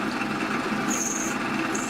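A power drill boring an M6 hole in a mini pallet clamp, whining steadily and close up at constant loudness for the whole stretch, with no talking.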